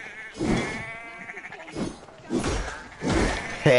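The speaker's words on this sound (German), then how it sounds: "Oh, guck mal, Schaf." Sheep in Assassin's Creed Valhalla bleat several times in wavering, nasal calls, a few clear repeated bleats spaced across the moment with soft background ambience.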